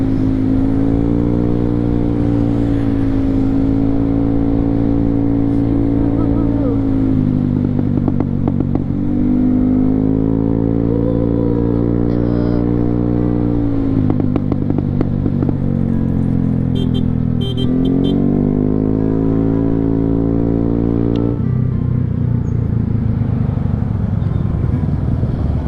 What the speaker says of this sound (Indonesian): Sini rame mobil-mobil guys.